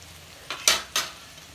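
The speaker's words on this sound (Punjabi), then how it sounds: "ਕਰੇਲੇ ਅਸੀਂ ਚੰਗੀ ਤਰ੍ਹਾਂ ਫਰਾਈ ਕਰ ਲਏ ਹਨ" Stuffed bitter gourds (karela) fry in a pan. Two or three close scraping stirs rise over a soft background sizzle, short and spaced apart, with no voices.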